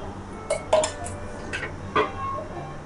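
A metal tawa griddle pan is set down and handled on a gas stove, giving a few sharp metallic clinks and knocks spread over about three seconds against a faint background.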